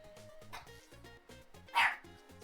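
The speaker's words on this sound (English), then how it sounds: "barking at the mailman" A pet dog indoors barks at the mail carrier, giving two sharp barks about a second apart with a quiet room between them.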